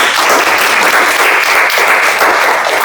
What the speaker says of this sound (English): give these two guys a round of applause